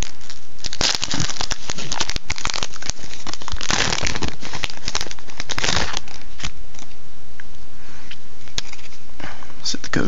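Pokémon card booster packs torn open and handled, loud close foil crinkling and crackling in bursts, then quieter rustling, with a voice talking quietly at times.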